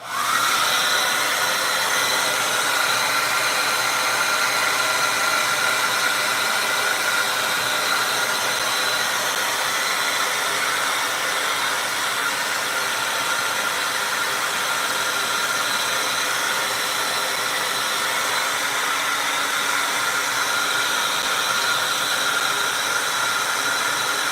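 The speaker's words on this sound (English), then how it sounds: "get out your hair dryer and dry all of this off" A hair dryer blows steadily and loudly for the whole stretch, a constant whooshing roar with a faint motor whine.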